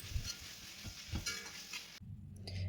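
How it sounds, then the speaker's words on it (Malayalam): Chopped onions sauté in hot oil for a Kerala chicken roast, a close crackling sizzle broken by several scraping stirs of a spoon in the pan, then a softer steady fry. "ഇതിലേക്ക് നമ്മൾ അരിഞ്ഞു വെച്ചിരിക്കുന്ന സവാള നന്നായിട്ട് വഴറ്റിയെടുക്കണം"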